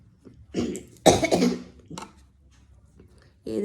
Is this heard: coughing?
yes